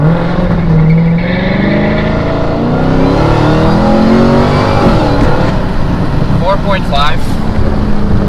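A Dodge Hellcat accelerating hard from a standstill in eco mode, its engine drone rising steadily and loud throughout, with a person talking over it partway through.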